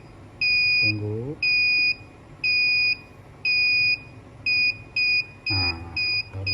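DZ-280SE vacuum sealer beeping while it seals, with evenly spaced high electronic beeps that speed up toward the end, plus short bursts of speech between them.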